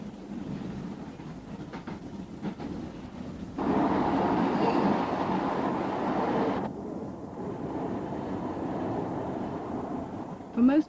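A Tyne and Wear Metro train in 1984 running along the track, a rumbling rolling drone that swells louder midway then eases, with faint clatter and wind noise throughout.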